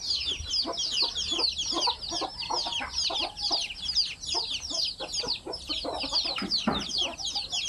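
A flock of chickens clucks and chirps continuously, many overlapping calls at a steady moderate level, with some soft peeps mixed in.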